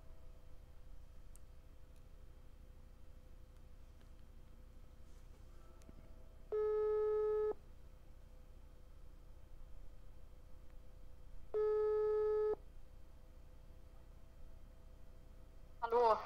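Phone ringback tone while calling an actress: two long steady tones, each about a second, separated by several seconds of quiet line hiss, with a brief clatter at the end.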